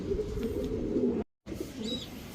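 A young Koopman racing pigeon cooing on a rooftop, low soft coos up close that break off into a brief silence and then resume with a faint higher chirp.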